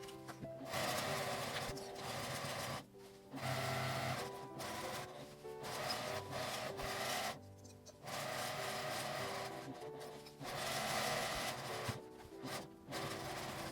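A sewing machine stitches a tote bag in close, steady mechanical bursts, stopping and starting several times with short pauses between runs of stitching.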